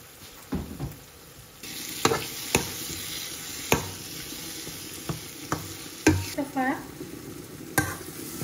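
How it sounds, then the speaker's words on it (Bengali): Shrimp frying with spices in a pan, a soft steady sizzle under repeated scraping knocks of a spoon stirring against the metal, spaced irregular strokes close by. "চিংড়ি মাছগুলো দিলাম, মশলার লগে বালা করে ভাজা হইব।"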